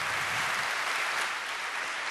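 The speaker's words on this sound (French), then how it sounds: "Des applaudissements." Dense applause from an audience at the 2009 ELA Ambassador Prize award ceremony, a steady unbroken wash of clapping for about two seconds.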